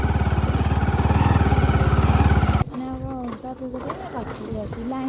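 A motorcycle engine putters loudly and rhythmically on a muddy road, then cuts off abruptly partway through, leaving people talking over quieter outdoor background.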